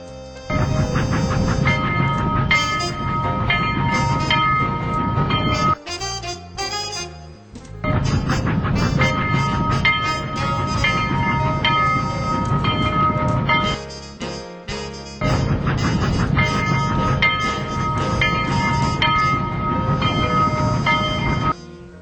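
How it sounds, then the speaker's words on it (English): A train of connected railroad cars pulled by locomotives rumbles loudly and steadily, with a brief dip in the middle, alone without any talk. "A train is a series of connected railroad cars, pulled or pushed by one or more locomotives."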